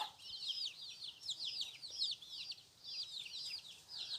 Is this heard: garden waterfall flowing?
no